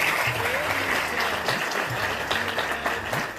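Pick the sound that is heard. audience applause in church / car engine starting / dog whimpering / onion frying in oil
audience applause in church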